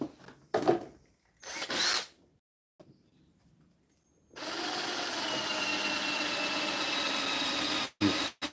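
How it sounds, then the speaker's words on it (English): A few short handling noises and pauses, then a power drill whirs continuously for several seconds while drilling holes in a shed, before stopping, followed by a brief clatter; rain outdoors. "So I'm gonna have to drill them."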